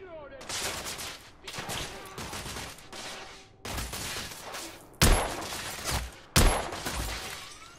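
Heavy bursts of suppressing gunfire in the video game The Order: 1886, several loud sustained volleys with sharp impacts between short gaps, close and forceful, with some shouted voices in the mix.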